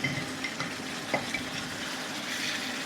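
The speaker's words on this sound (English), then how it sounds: "you stir as you drop in your starch, otherwise it become lumpy" A potato starch slurry goes into sizzling Sichuan chicken, and steady stirring scrapes the pan beneath the continuous close frying hiss.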